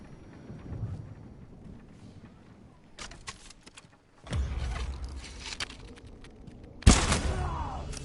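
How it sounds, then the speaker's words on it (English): A firecracker black powder bomb explodes in the Ghost of Tsushima video game, with two loud sharp bursts a few seconds apart, each followed by a crackling rumbling tail. "Black powder bomb, firecracker."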